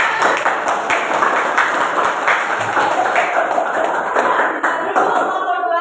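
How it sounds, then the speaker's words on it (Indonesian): Classroom students clap their hands together in a quick, close burst of sharp, crisp claps, fairly loud and continuous for several seconds. "Tepuk tangan."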